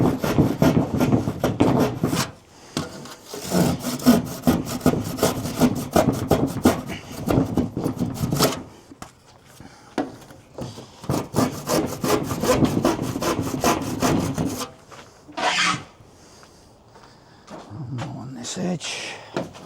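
A hand saw cuts through wood near a built-in cupboard, giving loud, rapid rasping strokes in two long bursts separated by a short pause, then several scattered scraping sounds, with a person speaking in between.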